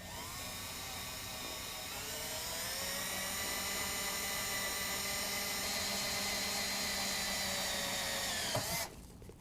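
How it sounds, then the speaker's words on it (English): Power drill with a 1/8 inch bit boring through a metal truck body panel on a 2019 Ram 1500, a close, loud high whine held steadily for several seconds, then cutting off abruptly as the bit breaks through. "we're going to start with an 1/8 inch drill bit and drill through"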